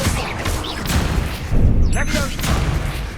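Spell blasts from a Confringo duel in the Hogwarts Legacy video game, with thumping bursts and crackling impacts. A voice shouts spell names over the noise, and a sharp whoosh comes near the middle.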